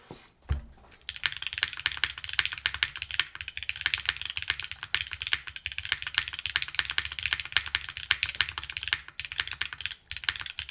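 Mechanical keyboard with a brass bottom case being typed on continuously, a dense, close run of crisp keystroke clacks with brief pauses, no speech.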